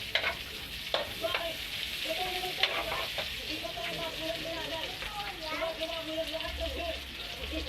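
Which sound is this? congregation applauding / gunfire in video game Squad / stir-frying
stir-frying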